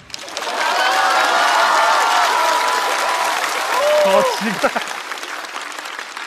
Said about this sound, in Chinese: 保护环境，人人有责，鼓掌